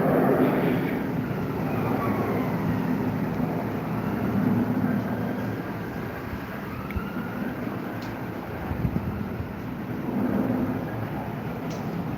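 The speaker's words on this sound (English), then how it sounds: "I think that is the 787 Dreamliner then." A Boeing 787 Dreamliner passes at a distance, a low, sustained rumbling roar that swells and fades gently over several seconds.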